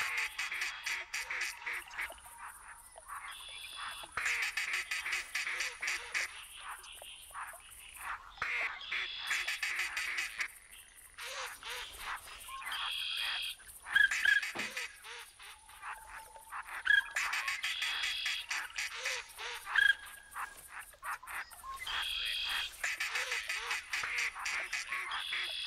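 Ducks quack repeatedly in the Rougarou Bayou marsh of The Hunter 2017, bursts of nasal calls overlapping in clusters against a steady background hum, with a few louder outbursts standing out.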